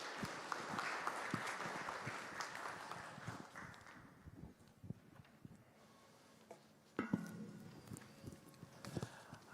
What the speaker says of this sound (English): A round of applause for Daktari.